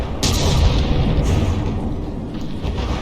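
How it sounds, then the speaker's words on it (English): An explosion on a battleship deck in From the Depths booms loud and close. A heavy rumbling roar runs throughout, with sharper blasts near the start and toward the end. "Big explosion on the deck there."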